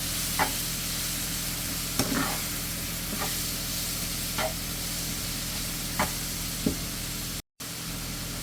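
Salted butter sizzles in a pan with a steady soft hiss. Occasional clicks and scrapes from stirring come every second or so, close by, with no voices.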